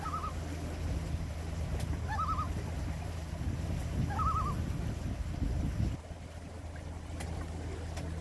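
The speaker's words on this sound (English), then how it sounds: "Couple loons." Loons call from a marshy stretch of the Rideau Canal, several short wavering tremolo cries at a distance over a steady low rumble of wind or a boat motor, with no voices.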